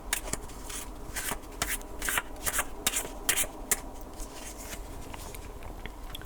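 Tarot cards being shuffled by hand, a run of close, crisp riffling and flicking bursts that grow busier in the middle and then settle into softer card handling, with no talking.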